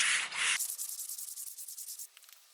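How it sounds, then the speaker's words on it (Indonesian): Sandpaper is rubbed by hand over wood in quick, even back-and-forth strokes. The scratchy rasping is close and soft and thins out toward the end. "Itu kita amplas ambang saja."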